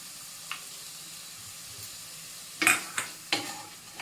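Paneer and mushrooms seasoned with salt and pepper get stirred in a pan: a quiet low sizzle with a few sharp scrapes and clinks of a spatula against the metal near the end.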